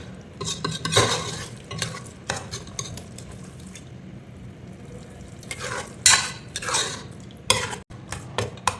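Hands mix chili powder and spices into a tart Ayila fish curry, giving wet squelching and stirring sounds in irregular bursts, close and moderately loud, with no talk.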